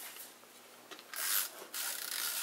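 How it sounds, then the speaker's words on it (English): Paper edges on a scrapbook album page are trimmed at close range with a dry rasping, scraping cut that builds into two longer strokes after a quieter start. "and then I'll just trim these edges"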